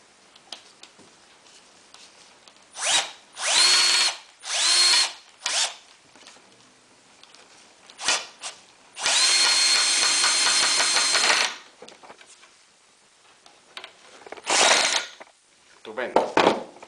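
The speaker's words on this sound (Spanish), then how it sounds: "Y ahora ponemos el tornillo." Cordless drill driving a screw into a wooden frame for a homemade mosquito trap, in several short bursts followed by one long steady whir, with faint clatter between runs.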